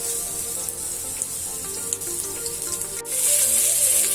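Stuffed pomfret fish fries in a pan with a constant close hiss of hot oil, which grows louder and brighter over the last second, and no voices.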